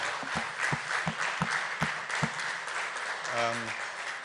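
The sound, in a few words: audience applause for speaker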